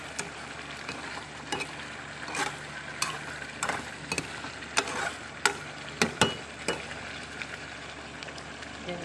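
Chicken sautéing in tomato sauce in a pan for chicken asado, a steady low sizzle broken by sharp clacks and scrapes of a spoon stirring against the pan, no voices.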